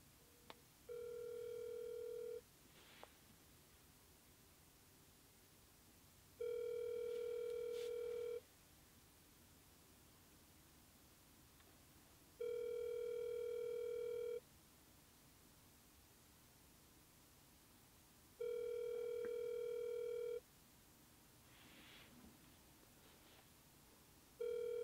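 An outgoing phone call ringing over a phone's speakerphone: quiet, evenly spaced two-second ringback tones repeating about every six seconds over a faint hiss, with no voices.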